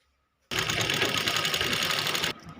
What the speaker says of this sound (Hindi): दोनों आसन पे मैं स्टिचिंग कर लूँगी अच्छे से।